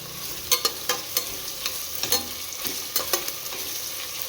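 Onions fry and roast in a pan for a palak chicken biryani masala, a constant close sizzle punctuated by rhythmic ladle clacks against the pan as they are stirred, with no one speaking.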